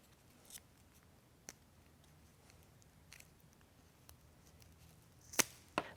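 Scissors snip the tarp of an Ionic roll-up tonneau cover on a 2011 Ford F150, producing scattered quiet cuts with longer gaps, then two sharper, louder snips near the end, close by with no talk.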